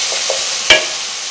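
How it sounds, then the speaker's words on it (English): Vegetables wilting in a hot pan give a soft, steady sizzle, with a brief sharp clatter of stirring partway through. The sound is close and moderate, with no voices. "I'm going to speed this up a little bit so that you don't sit here and watch the vegetables cook"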